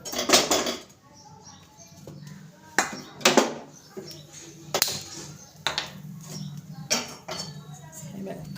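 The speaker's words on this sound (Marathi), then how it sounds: "तर चला कढई गरम करायला ठेवते." A kadai (wok) is set down on a home stove to heat while making potato chutney, giving several sharp metallic clanks and clinks of cookware spaced through the clip, with quieter handling noises between them.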